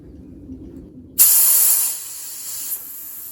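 Compressed air bursting out as the brass fill nut on an FX Wildcat MK3 air rifle is cracked open with a wrench, a sudden sharp hiss after near silence that eases to a softer steady bleed.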